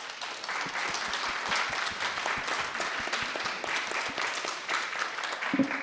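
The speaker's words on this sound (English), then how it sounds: "let's just give one round of applause to all our panel speakers" A conference audience at a Taiwan gender equality event gives panel speakers a dense, continuous round of applause, loud and close throughout.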